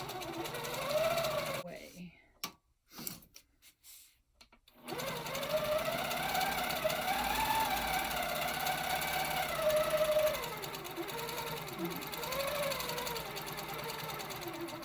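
A sewing machine fitted with an echo quilting foot stitches circles on red fabric in a long, steady motorized run that briefly breaks off with scattered handling clicks, then resumes; a voice talks over parts of it.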